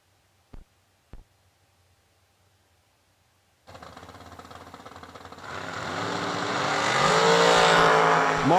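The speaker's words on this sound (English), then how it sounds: "Taking on Chris Burrell in the Ford power plant, 463 dial dragster" Drag racing dragster with a Ford engine launching down the strip, silence and a couple of sharp pops first, then a sudden loud roar that swells and climbs in pitch as the car pulls away.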